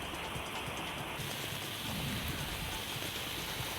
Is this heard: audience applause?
no